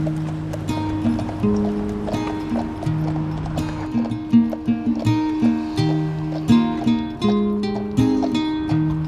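Horse hooves clip-clopping at a steady walk, a regular string of close, crisp strikes over a sustained musical backdrop.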